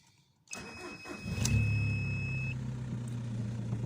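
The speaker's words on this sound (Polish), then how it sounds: "No i po odpaleniu silnika" A car engine cranks and catches, then settles into a steady idle hum that continues evenly to the end.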